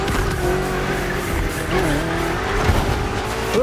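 A BMW M CS drives a long road trip in The Crew Motorfest, a loud, steady engine drone close by with slight pitch wobbles as it holds speed, plus faint tire noise.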